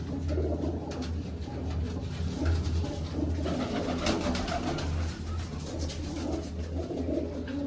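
Pigeons coo softly and steadily in a coop, low repeated calls continuing throughout with no voices.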